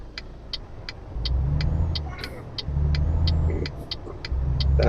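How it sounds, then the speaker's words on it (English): Truck engine in Euro Truck Simulator 2 rumbling and revving in repeated surges as it pulls away, loud and low, under a regular ticking clicks. "start the engine, there we go."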